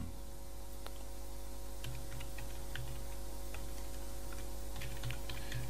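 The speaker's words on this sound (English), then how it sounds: "So what I'm going to type here is," Typing on a computer keyboard while filling in a new-user registration form for a PHP project, heard as light, scattered key clicks over a steady low hum.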